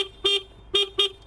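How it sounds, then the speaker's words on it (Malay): Horn of an Aveta Nova 250 motorcycle sounding three short, loud beeps close by, each a steady two-tone note with brief gaps between them. "Lepas tu ni dia punya horn."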